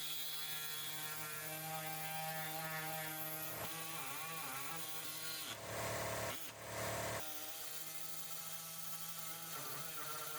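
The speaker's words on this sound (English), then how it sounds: "Make a cut on either side of the carrier frame, and ensure the cut makes it all the way through the metal." A power tool cuts through the metal carrier frame of a third-generation Toyota Tacoma driveshaft with a loud, sustained, whining drone, its pitch dipping and wavering midway as the blade bites, with a harsher burst near the middle and no talking.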